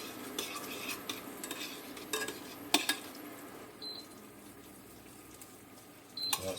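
Butter sauce is stirred around a pan holding turbot, with soft scraping and light clinks of a utensil in a few brief bursts and quiet gaps, close and fairly faint.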